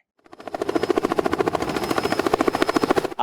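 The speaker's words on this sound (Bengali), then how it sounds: "আকাশে উড়লাম হেলিকপ্টারে" A helicopter rises in from silence, its rotor blades thudding in a fast, even rhythm that grows loud and stays close.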